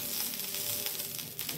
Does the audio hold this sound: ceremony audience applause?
no